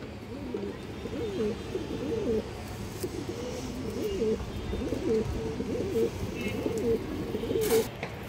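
Pigeons coo steadily, with repeated low rolling calls in a close, continuous chorus. The birds are a matched pair of fancy breeds such as high flyers and China khaki. Faint chirps sound now and then.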